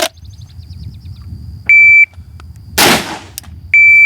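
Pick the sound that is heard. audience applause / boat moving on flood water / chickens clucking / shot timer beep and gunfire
shot timer beep and gunfire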